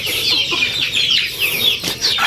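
A Brahma chicken, a native breed with feathered feet, clucks in a steady run of close, fairly loud calls, with other fowl noises mixed in and no talking.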